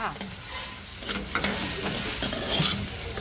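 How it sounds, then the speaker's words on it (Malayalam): Crushed dried red chillies, about seven, fry and sizzle in a pan for a Kerala karimeen dish, a steady crackle broken by several stirring scrapes and clinks close by, with no talk. "മുളക് വറ്റൽ മുളക് ഒരു ഏഴെണ്ണം ചതച്ചെടുത്തതാണ് അത് ചേർത്ത് കൊടുക്കുന്നുണ്ട്"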